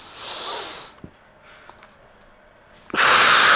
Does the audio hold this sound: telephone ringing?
no